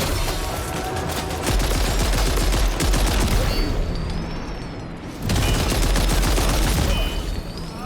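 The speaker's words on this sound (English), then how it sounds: "I bet there's a machine gun up here. I'll shoot you back with it." Machine gun fire in Death Stranding 2 rattles in rapid, loud bursts, with one pause around the middle before another sustained burst resumes.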